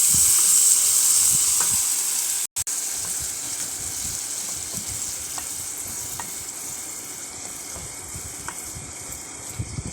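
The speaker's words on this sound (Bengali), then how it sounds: "3 চামচ সর্ষে বাটা দিয়ে দিলাম" Three spoons of mustard paste go into a hot pan of egg and potato curry, giving a steady, loud sizzle and hiss that runs the whole time, with faint clicks of stirring close up and no voices.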